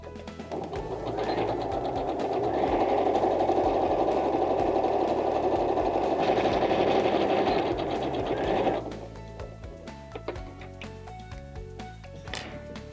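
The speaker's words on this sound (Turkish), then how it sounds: "Parçamı önce dikiyorum şu kısımdan, 1 santimden." A sewing machine stitches fabric in one long continuous run of rapid, steady mechanical whirring for about eight seconds, close and loud, then stops, leaving faint handling clicks and rustles.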